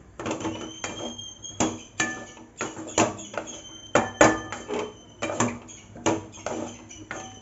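Egg and masala being stirred and tossed through shredded parotta in a pan over medium flame, a repeated series of sharp metal scrapes and clanks in an uneven rhythm, close and fairly loud.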